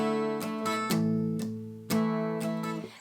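Palm-muted acoustic guitar strums land one after another in an uneven rhythm, each chord short and damped, played close and alone.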